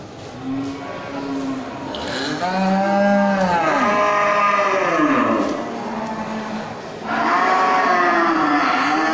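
Simmental cattle moo loudly and close, long drawn-out lowing calls one after another, with a steady background hum between them.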